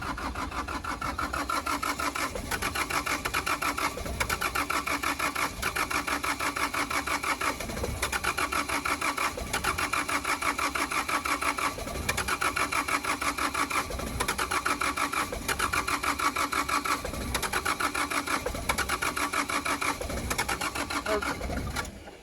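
A cold vehicle engine at mountain altitude cranks on and on without catching, a loud, fast, rhythmic mechanical chugging held steady for over twenty seconds, close by.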